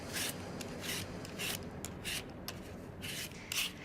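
Gala apples being peeled for baking, a soft rasping scrape repeating in short bursts roughly every half second, close and fairly quiet, with no voices.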